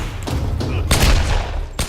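Pistol shots crack out in the Tomb Raider video game, a few loud, sharp bangs spaced irregularly over a couple of seconds with heavy low-end rumble.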